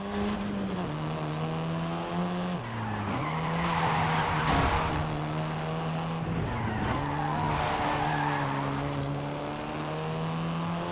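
A Volkswagen Golf R race car driven hard in Forza Horizon 5, the engine droning and shifting pitch while tires squeal and skid through corners, loud and continuous.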